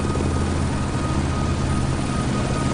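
Two helicopters fly toward an island, their rotor and engine noise a loud, dense, unbroken drone with a steady throbbing beat close by, with no voices.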